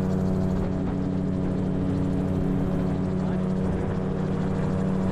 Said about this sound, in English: when it's in the air, it feels just like a regular airplane, except you got spinning rotor heads above you